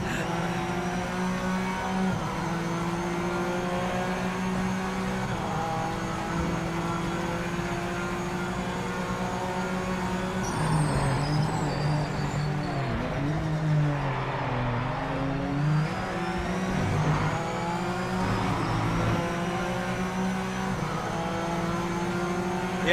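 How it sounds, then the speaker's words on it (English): A race car engine in the Project Motor Racing VR racing game, with an Acura among the cars, drones and revs steadily throughout, swelling and shifting pitch midway as another car seems to pass close behind. "I said, I hear your car behind me,"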